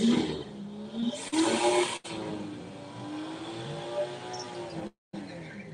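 BMW race cars lapping a track during a test session, engines droning and revving at a distance with rising and falling pitch, one burst of noise partway through and a brief dropout near the end.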